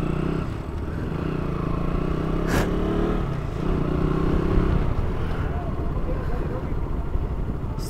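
Two motorcycles and a car pull away on a road near Harsul, engines droning steadily and fairly loud with a brief rattling clatter, under ongoing talk.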